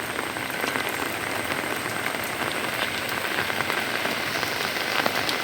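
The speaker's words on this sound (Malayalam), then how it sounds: "മഴയാണെങ്കിൽ തോരുന്നേ ഇല്ല." Heavy rain pours down steadily over a terrace garden during flooding, a dense, even hiss of drops striking surfaces, close and constant with no voices.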